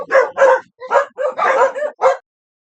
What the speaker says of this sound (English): Obviously, I have dogs.